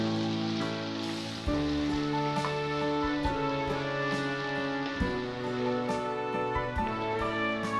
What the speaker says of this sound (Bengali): খুব ভালো করে পেঁয়াজটা ভাজা ভাজা করে নেব।